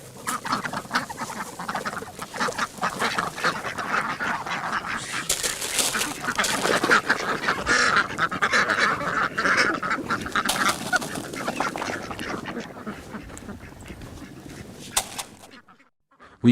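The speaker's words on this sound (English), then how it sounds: "So let's show you how we feed the ducks today." A flock of farm ducks quacks loudly and continuously at feeding time, many overlapping calls rising and falling before cutting off abruptly near the end.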